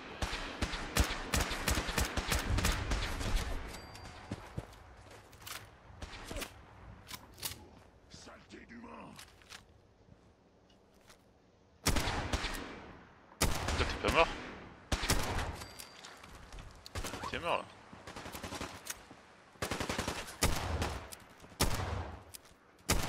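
Gunfire from a heavy-recoil weapon in Fallout 4, with loud bursts of shots in the opening seconds, a quieter stretch, then repeated sharp volleys later, mixed with other game sounds.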